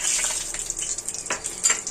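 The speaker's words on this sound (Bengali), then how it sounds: "এখন তেলের মধ্যে দিয়ে দেবো গোটা জিরে, তেজপাতা, একটা শুকনো লঙ্কা, 2টো এলাচ আর একটা দারচিনি।" Whole cumin, bay leaf, a dried chilli, two cardamom pods and a cinnamon stick sizzle in hot oil, with a steady bright crackle and brief louder spits near the end.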